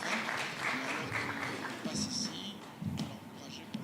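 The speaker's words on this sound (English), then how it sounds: "so a round of applause for her as she comes on stage" An audience at a transitional justice forum applauds in a diffuse, moderately loud patter, mixed with voices talking nearby.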